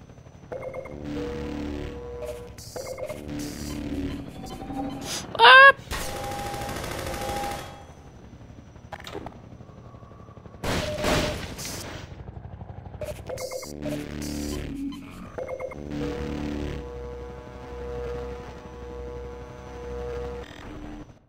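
Enemy gunfire in the video game Half-Life 2 comes as several separate bursts of rapid automatic fire, spaced by pauses, over a low hum of game ambience.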